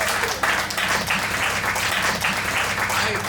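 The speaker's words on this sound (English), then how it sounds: "Give yourselves a round of applause." A comedy special audience claps in a steady, dense round of applause that lasts throughout, loud and close, with a faint voice underneath.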